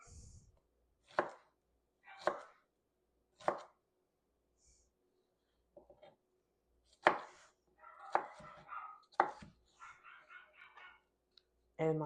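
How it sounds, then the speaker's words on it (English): A kitchen knife cuts through a bell pepper on a cutting board, sharp isolated chops spaced about a second apart, then a quicker cluster of cuts, close and fairly quiet. "Just going to trim it down and cut it up."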